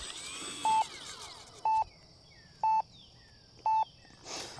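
An RC transmitter's flight timer for a UMX Waco backyard flyer sounds four evenly spaced, identical electronic beeps about a second apart, clear and prominent over quiet outdoor background.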